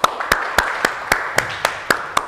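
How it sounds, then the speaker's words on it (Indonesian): An audience at an Indonesian talk on digital learning technology claps hands in a steady, evenly spaced rhythm, about four claps per second, at moderate loudness. "Tepuk tangan Bapak Ibu."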